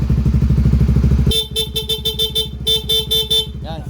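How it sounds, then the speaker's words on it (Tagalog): A Honda GTR 150 motorcycle engine idles, then its loud, close stock horn beeps in quick repeated bursts, two clusters of rapid honks over the running engine. "Busina tayo."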